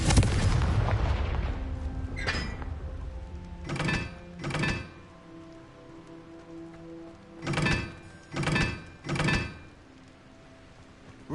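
Blasting-spell explosions from Hogwarts Legacy go off one after another, a heavy opening blast followed by several booming thuds in two clusters, loud and close with quiet gaps between.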